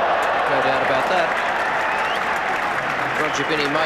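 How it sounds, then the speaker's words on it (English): A cricket crowd at a 1986 England versus India match applauds Graham Gooch with sustained clapping and murmuring that fills the background while a commentator talks over it. "there'll be lots of applause for Graham Gooch"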